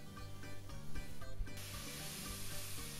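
Chopped shallots dropped into the center of a hot pan of sweated onions and garlic on lowered heat, giving a close, steady hiss of sizzling that brightens and grows louder partway through.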